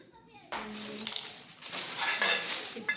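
Metal spoons clink and rattle against each other in quick, bright bursts up close, with a little background voice.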